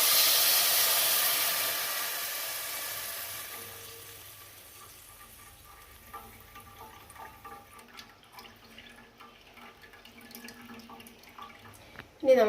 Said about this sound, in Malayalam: പിഴിഞ്ഞ് വെച്ച പുളി അരിച്ച് അങ്ങോട്ട് ഒഴിച്ച് കൊടുക്കാം